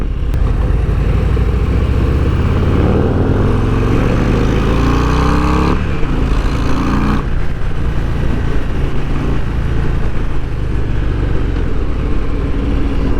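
A 2024 Harley-Davidson Breakout 117 cruiser motorcycle roars while riding, a loud, steady engine rumble with rising and falling revs as it accelerates and shifts through gears, up close and with no one talking.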